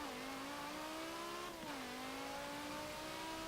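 2010 BMW M6 Coupe engine in Forza Motorsport 7, a loud sustained racing whine that holds steady, drops briefly at a gear change and then climbs again, with no talk.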